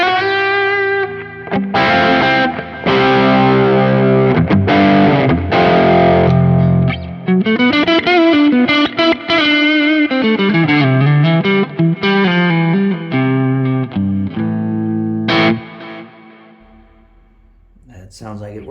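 An electric guitar played through a low-gain Lone Star pedal capture on a Quad Cortex: loud, mildly overdriven chords and single-note lines with a sustained, slightly gritty tone, continuous for most of the passage before a brief pause and a final ringing stab.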